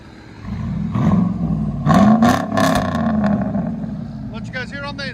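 Squatted Chevy Silverado with a 5.3L V8 and true dual straight-pipe exhaust, revving loudly in a few sharp rising bursts nearby, with people talking over it.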